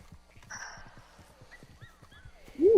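A horse in a video game neighs with a rising whinny while hooves clip-clop in a steady walking rhythm underneath, close and moderately loud, ending in a sudden louder burst.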